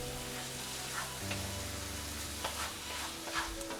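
Onions with cherry jam sizzle in a pan in a steady, close hiss, with faint stirring scrapes and small pops on top and no talk.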